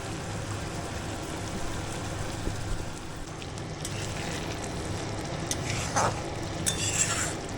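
Prawn malai curry with ghee and garam masala is stirred in a pan, producing a steady close sizzle with scattered scraping and clinking of the spoon, and no voices.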